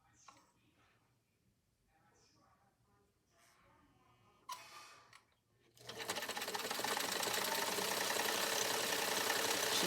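A vintage Singer Spartan 192k sewing machine stitches through tissue paper, starting after a few quiet seconds of handling and then running steadily and loudly with a fast mechanical chatter; no voice over it.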